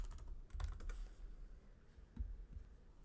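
Computer keyboard typing during a Cricut crafting session: a quick run of close, irregular key clicks, then a few more scattered taps. Nobody speaks over the clicks.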